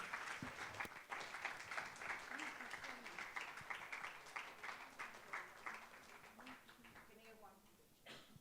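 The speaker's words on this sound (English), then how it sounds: "put a huge round of applause together for Atindriya Gupta, the winner of this year's Deodar Prize" An audience applauds a Deodar Prize winner at a literary event, with steady, moderately faint clapping carrying on for several seconds before tapering off.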